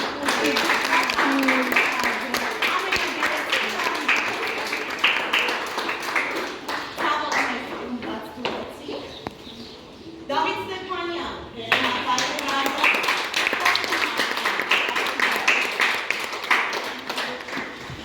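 A school class applauds loudly with sustained, dense clapping, a brief lull partway through, then a second burst of clapping, while a teacher talks over it.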